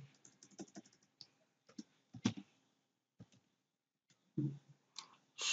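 Keys tapped on a computer keyboard while entering HTML in a text editor, in quick irregular clusters of soft clicks with short pauses, close and fairly quiet, ending in a louder burst.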